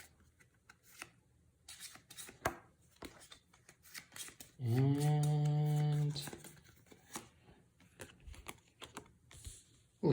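Cards for the Bardsung board game being shuffled and handled, with scattered light clicks and riffles, interrupted briefly by a sustained humming tone.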